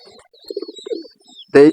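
A pigeon chick calls with short, soft squeaky peeps that recur in a brief, close-up burst, ending on a louder chirp.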